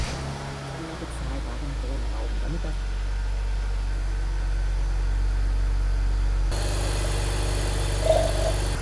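A BMW E46 325i Touring engine idles steadily and close by, a low, constant hum with faint mechanical rattle during a power steering fluid bleed, the tone shifting slightly partway through.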